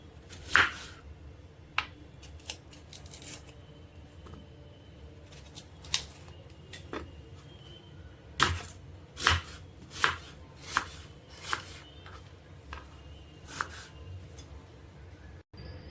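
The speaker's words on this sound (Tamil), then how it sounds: "டொமேட்டோவும் இதுபோல் கட் பண்ணியாச்சு" Tomatoes are sliced with a knife on a cutting board for drumstick and mango kuzhambu, giving sharp, irregular chops spaced a second or two apart, close and crisp against a quiet background.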